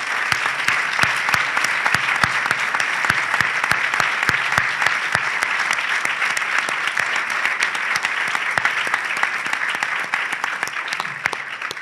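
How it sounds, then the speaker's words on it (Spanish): A crowd at a start-up awards ceremony gives the team a strong, continuous round of applause, with crisp individual claps standing out from the dense steady clatter for nearly twelve seconds. "reconocer el trabajo de todo este equipo con un fuerte aplauso"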